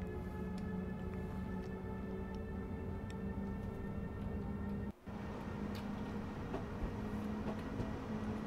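A ČD Vetron BR 193 electric locomotive pulls a Czech Eurocity train in Train Sim World 4, giving a steady, even rumble with a constant motor hum and faint ticking that drops out briefly once.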